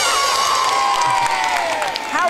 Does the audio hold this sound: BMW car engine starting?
no